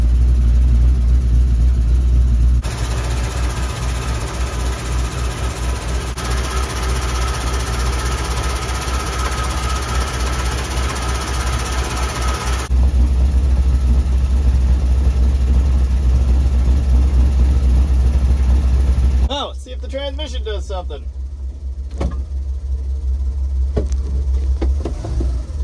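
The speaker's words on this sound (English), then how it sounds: "Engine sounds great." A 1957 Chevrolet wagon's engine idles in a loud, close, steady drone, its generator suspected of a rubbing fan or worn bearing; the tone shifts in level a few times, with clicks and lighter rattles near the end.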